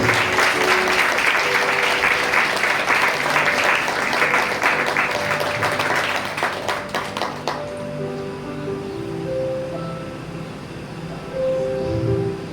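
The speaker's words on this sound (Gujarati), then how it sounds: "તાળીઓ પાડી ઈશ્વરને મહિમા આપો" A church congregation claps loudly and steadily for several seconds during a worship service, then the clapping stops and sustained keyboard notes carry on alone.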